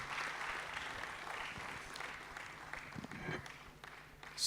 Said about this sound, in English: Here's another rousing round of applause for our keynote speaker